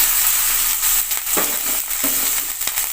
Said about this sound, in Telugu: ఇప్పుడు మనం ముందుగా అల్లం ముక్కలు బాగా వేయించుకోవాలండి